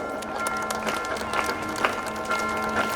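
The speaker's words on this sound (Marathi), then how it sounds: "जोरदार टाळ्या वाजवा." Audience applause at an Independence Day cultural program, a steady patter of clapping from a crowd over a low hum, with some indistinct voices mixed in.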